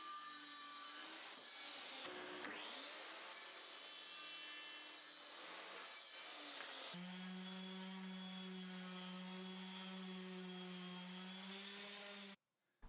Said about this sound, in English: I set the miter saw to roughly what my pencil mark was,